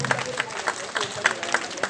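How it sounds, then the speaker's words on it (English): An audience at a stage event applauds, with scattered claps over crowd murmur and some voices, moderately loud and somewhat uneven. "Let's give a huge round of applause, ladies and gentlemen."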